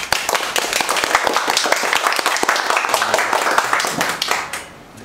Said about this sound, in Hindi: एकचोटि देव सर को लागि ताली बजाउन चाहन्छु।